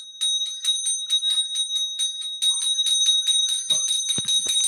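A small brass prayer bell rung by hand during aarti, fast continuous bright ringing strokes close by, with a few soft knocks and clatter near the end.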